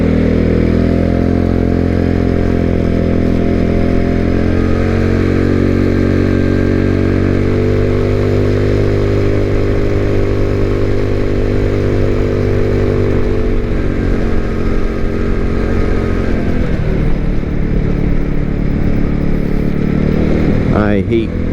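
A Mayhem Bike scooter-style motorcycle cruises along roads in Hamilton Township, New Jersey, heard from inside an enclosed helmet: a steady, loud, droning engine with a muffled rumble that holds throughout, shifting slightly in pitch near the end.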